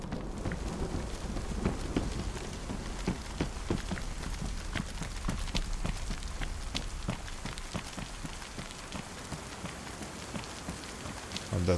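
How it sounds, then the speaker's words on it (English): Heavy rain pours steadily in a thunderstorm in the DayZ video game on the Livonia map, with low rumbles of thunder and scattered close patters of drops throughout. "Yeah, it's gonna be a proper storm."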